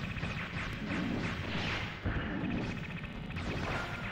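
Destroyed plants bursting in a string of dense explosions in the video game Mega Man Legends 2, a continuous loud crackling blast texture with a sharp hit near the middle, alone without speech.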